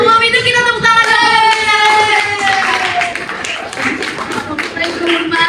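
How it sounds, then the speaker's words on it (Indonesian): Audience clapping at the close of a panel discussion on a Budi Utomo spirit dialogue, a loud spread of hand claps rising under a sustained voice or tone that fades as the applause continues. "Sebelum itu kita tepuk tangan dulu."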